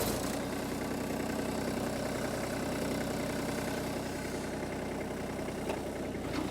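Small 25 hp tractor idling at very low rpm, turning its PTO to drive an automatic log saw, giving a steady, even low rumble with a faint rhythmic throb, close and continuous, with no talk.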